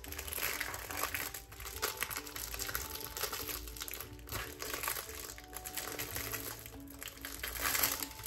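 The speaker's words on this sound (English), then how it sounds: "if you don't like the crinkling, I apologize" Plastic packaging crinkles and rustles almost continuously at close range, with irregular crackling handling sounds and no talking.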